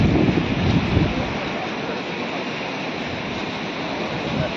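Strong wind roars and surf crashes during Cyclone Remal at Digha, Purba Medinipur, a loud continuous rushing with gusty buffeting against the microphone and no clear pauses.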